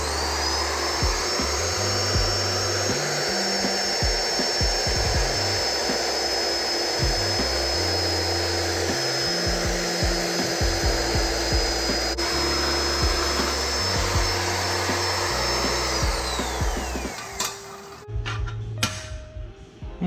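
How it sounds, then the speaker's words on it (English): Power tools shaping a stainless steel motor mount for a Sportster chopper, a saw, grinder and sander used in turn, give a loud continuous whine with shifting low rumble for about seventeen seconds, then the machine spins down into scattered shop clatter. "Did a lot of back and forth between the saw and the grinder and the sander"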